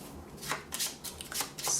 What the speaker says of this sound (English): Let's shuffle that up quickly.